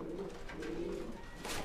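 Teddy cross pigeons coo in a loft, a continuous low throaty burble from several birds close by, steady throughout without speech.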